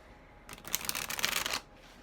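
A deck of oracle cards is riffled and shuffled in one quick burst of crisp, close flapping clicks lasting about a second, alone in a quiet room.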